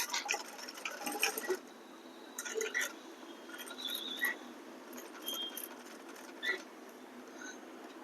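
A sewing machine stitching a cut work border patch onto a blouse, heard as short bursts of fast ticking and rattling separated by pauses, close and fairly quiet with no talk.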